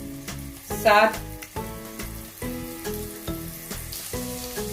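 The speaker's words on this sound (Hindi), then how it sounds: "ये लहसुन अदरक का पेस्ट जो है हमने वो थोड़ा सा फ्राई कर लिया ऑयल में" Garlic-ginger paste fries in oil in a pan, a steady sizzle with a brief louder crackling burst early on, all under continuous background music.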